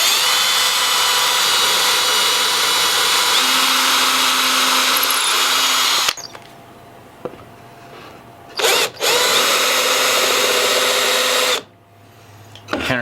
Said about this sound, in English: So I'm gonna drill